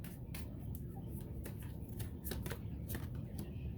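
A tarot deck is shuffled during a love reading, giving a continuous soft papery riffle with brisk flicking clicks running throughout, close and unbroken, with no voice over it.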